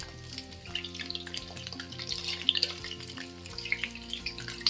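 Chicken 65 drumsticks frying on a slow flame, a steady soft sizzle and crackle of oil with small popping spits throughout, close and fairly quiet.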